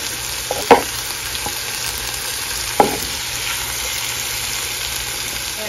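Green onion sizzles in a pan with curried tofu, a steady close frying hiss. Two sharp utensil knocks land early and near the middle.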